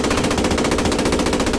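A tank's coaxial machine gun fires in the WW2 game Post Scriptum, a loud, close, rapid burst of evenly spaced shots that rattles on without pause for the whole stretch.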